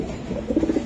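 Close racing pigeons make a brief burst of throaty cooing, the pulses quickening toward the end, with no voices present.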